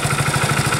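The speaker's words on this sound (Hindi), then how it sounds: "तो काफ़ी अच्छा भी नया इंजन है तो एकदम बढ़िया साउंड है" A new Hero Splendor Plus BS6 motorcycle, a 2021 model, idles close up with a quick, even putter of regular exhaust pulses and no voices.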